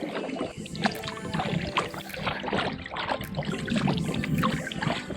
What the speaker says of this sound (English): 10 hours later, still paddling.